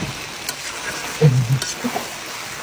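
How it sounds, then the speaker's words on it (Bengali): Tripe and potatoes frying together in a pan, a soft low sizzle with a few stirring scrapes and clunks partway through, fairly quiet and without talk. "এগুলো হচ্ছে বট রান্না হচ্ছে, আর বটের মধ্যে আলু দিয়ে দেওয়া হলো।"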